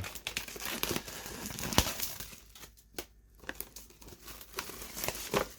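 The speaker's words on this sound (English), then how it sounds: "So let's unwrap it" A small Dreamcast package being unwrapped, with dense crinkling and crackling of wrapping and sharp rustles, briefly quieter midway, close and continuous.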